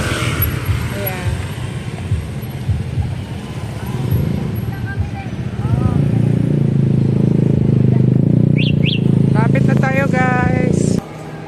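Tricycles and motorcycles passing on a street on the way to church, engines droning and rising loudly nearby while a voice talks over the traffic, the roar building steadily before cutting off near the end.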